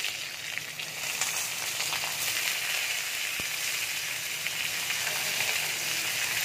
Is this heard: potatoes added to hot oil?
yes